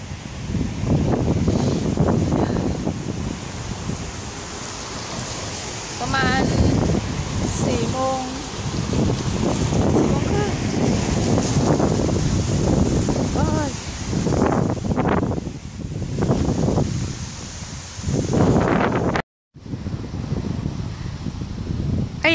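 Strong, cold wind gusts on a drizzly day outside a secondary school that teaches Spanish, roaring steadily into the microphone with a brief dropout near the end, while a voice is faintly heard.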